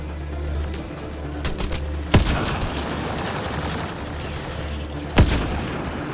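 Enemy gunfire in Mass Effect: Andromeda, with two sharp, loud shots standing out about three seconds apart over a dense, rumbling combat background.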